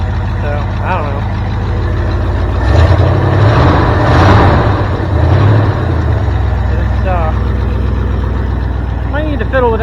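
An old dump truck, a cheap marketplace find with a carburetor needing adjustment, idles steadily nearby with a loud, continuous low rumble that swells briefly midway, while people talk over it.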